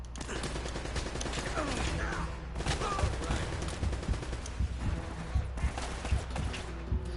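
Rapid bursts of gunfire from American guns in Uncharted: Drake's Fortune, sharp repeated shots under a bed of game music and ambience, fairly steady and moderately loud.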